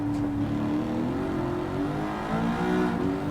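A Gran Turismo 7 race car's engine revs up steadily, its rising drone loud and continuous through the gears, with no talking.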